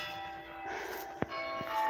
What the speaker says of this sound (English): And the bells do chime